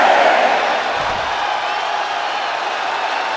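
A live wrestling crowd at a Halloween pay-per-view event roars in a loud, steady, dense wash of cheering that fills the space throughout.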